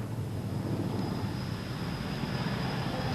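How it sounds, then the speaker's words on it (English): A Hawker Siddeley Buccaneer two-seat carrier strike jet flying at a RAF Fairford airshow, heard as a steady, broad roaring rumble with a faint high whine, continuous and fairly distant throughout. "Hawker Siddeley Buccaneer."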